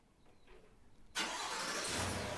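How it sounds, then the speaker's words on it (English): Cadillac Escalade started with the remote start key fob, the engine catching abruptly and settling into a loud steady idle that continues to the end, heard alone. "And the vehicle will respond by starting."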